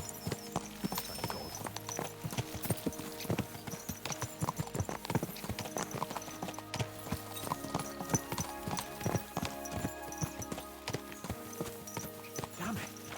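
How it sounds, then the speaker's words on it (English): Horses gallop in Kingdom Come Deliverance 2, a steady run of loud, close hoofbeats over rumbling ambience, with an occasional neigh and faint voices in the background. "Let's really spur these horses on, eh?"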